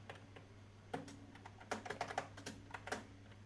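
Code is typed on a computer keyboard in Android Studio, a quiet, close run of irregular key clicks with small clustered bursts over a low steady hum.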